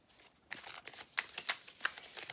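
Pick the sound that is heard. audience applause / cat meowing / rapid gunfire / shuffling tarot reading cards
shuffling tarot reading cards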